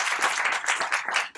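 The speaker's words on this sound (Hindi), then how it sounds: "उनके लिए तालियां हो जाए।" Audience at a panel discussion claps for a speaker in a brief, dense burst that is fairly close and fills the moment, with no voices over it.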